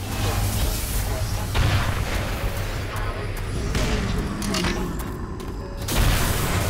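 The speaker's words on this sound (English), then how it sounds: "Let's kill him with human weapons. Like this rocket launcher." Rocket launcher fire in Black Mesa, booming blasts over a dense, continuous game soundscape of rumbling low-end impacts, with a fresh heavy burst near the end.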